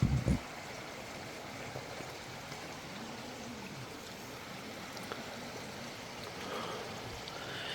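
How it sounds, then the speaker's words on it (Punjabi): A mountain stream flows steadily outside a room in Nako, in the Spiti Valley, giving an even, continuous rushing wash of water at moderate distance with no voices. "ਅੰਦਰ ਦੇਖੋ ਪਾਣੀ ਦੀ ਆਵਾਜ਼"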